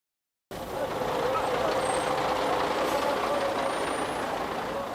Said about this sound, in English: The refugees came through in 11 covered trucks.